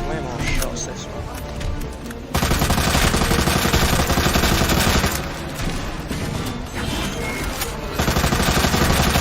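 Rapid gunfire from Resident Evil 2 Remake, dense bursts of shots in loud sustained volleys with short breaks, a voice talking over the action.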